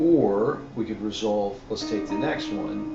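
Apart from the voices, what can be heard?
None of the usual background noises is heard.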